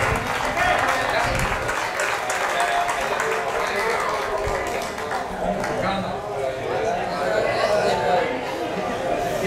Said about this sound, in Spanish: Un fuerte aplauso para estos pilotos.